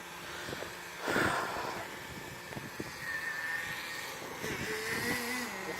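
Small RC car engine idling nearby, a faint, uneven buzzing drone with occasional revving swells and a few sharp knocks.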